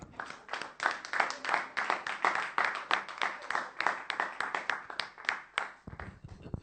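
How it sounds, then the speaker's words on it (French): A church congregation claps steadily in a dense, rhythmic burst of applause lasting several seconds, fairly close, with a few voices mixed in. "On peut acclamer le Seigneur"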